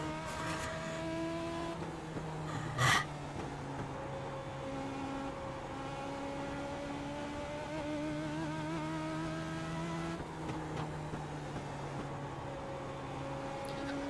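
Race car engines drone steadily in the iRacing simulator as a leading car pulls away to lap the fourth-place car, several engine tones shifting and overlapping over a continuous hum, with one brief sharp click early on and no talk.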